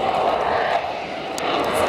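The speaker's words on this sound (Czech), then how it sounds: "Vidíte schopnosť letounu létat i při malých, i při vysokých rychlostech." A Saab JAS 39 Gripen jet fighter flies a display at the SIAF 2015 airshow, its engine producing a loud, continuous, broadband roar with no breaks.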